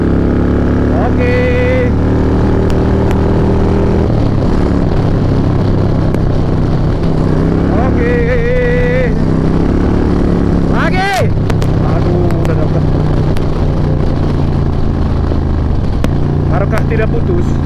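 A motorcycle runs hard at full throttle on a touring road through the hills of Lombok, its engine a loud, steady drone throughout, with brief higher tones and rushing wind breaking in now and then.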